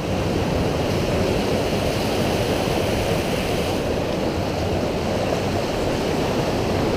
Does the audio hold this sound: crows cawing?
no